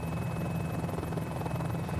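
Mini-500 helicopter in Microsoft Flight Simulator, a steady loud rotor and engine drone with a constant buzzing whine, unbroken and close throughout with no speech.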